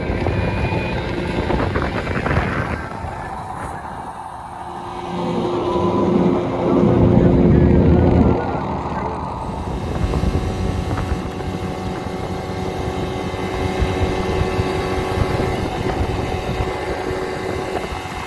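A 1998 Carolina Skiff J16 motorboat runs steadily across open water near Jacksonville, with the outboard drone carrying throughout under heavy wind buffeting on the microphone.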